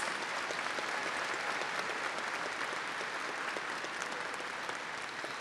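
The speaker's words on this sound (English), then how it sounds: "Let's give them one more round of applause" A large high school graduation crowd gives the students another round of applause, with steady, dense clapping at an even level throughout, close and full without any talking.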